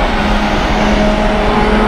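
Race car engines of a V8 Chevrolet Corvette and a Honda Civic in a closed-wheel racing video game hold a steady, loud droning hum, sustained without a break.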